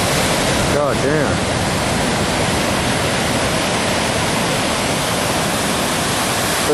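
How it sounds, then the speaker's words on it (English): Big ocean waves at Santa Monica beach, a loud, constant broadband roar of surf that fills the whole stretch, with a brief voice heard near the start. "There's some big waves coming in out there."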